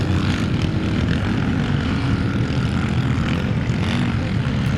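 Motocross motorcycle racing past on a dirt track at a Scottish classic motocross round in Strathaven, a loud continuous engine drone held steady and close throughout, no talking.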